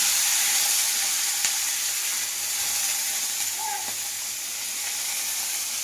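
Soaked chickpeas frying in oil in a wok with cumin, chilli and bay leaf, a steady close hissing sizzle with a few faint clicks of stirring, no voices.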